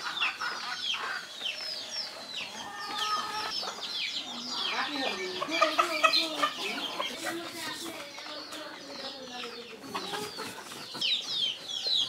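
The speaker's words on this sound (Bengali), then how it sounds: "অনেক সুন্দর সুন্দর বাচ্চা উঠেছে, মুরগির বাচ্চা, সবই দেশি মুরগির বাচ্চা।" Native village hens cluck and newly hatched chicks peep in a steady busy chorus, close by, with a person talking over the birds.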